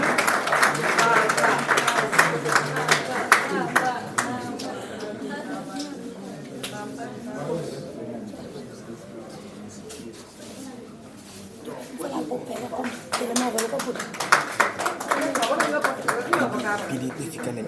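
An audience applauds at a diploma ceremony for the first journalism graduates, a dense wash of clapping that dips in the middle and swells again, with voices mixed in.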